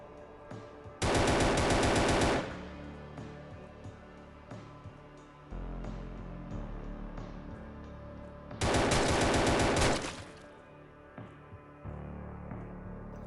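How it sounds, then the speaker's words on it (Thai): Automatic gunfire in the mobile zombie game Outbreak Dead City comes in two loud sustained bursts of rapid shots, each lasting about a second and a half, with quieter game sounds between them. "ตัวเกมก็จะเป็นยิงออโต้นะครับ"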